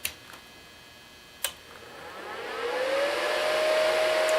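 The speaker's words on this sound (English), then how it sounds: "we're going to turn this sucker on and see what kind of noise the fan makes" After two sharp clicks, the cooling fan of a Longevity Forcecut 42i plasma cutter spins up, its whoosh and rising tone swelling into a steady, fairly loud hum nearby.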